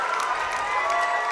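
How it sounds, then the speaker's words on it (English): A high school basketball crowd applauding and cheering a player's 1,000th career point, a steady wash of clapping and voices in a gym, moderately loud throughout. "the crowd gave him a great celebration there"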